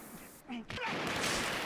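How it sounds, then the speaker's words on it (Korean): Gunshots ring out in the Hong Kong crime film A Better Tomorrow, a couple of sharp cracks followed by a loud sustained wash of noise and score. "결국 총성이 울리고 말았습니다."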